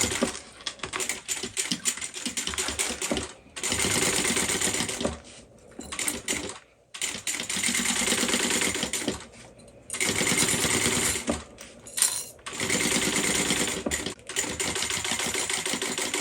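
A sewing machine stitches a tote bag seam in bursts of fast, even whirring, several runs of a few seconds each separated by short pauses, close and clear with no talking.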